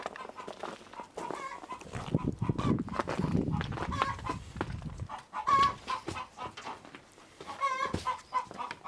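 Hens cluck and squawk inside a chicken coop, their calls repeating irregularly and close by, with a low rustling stretch in the middle and occasional louder bursts.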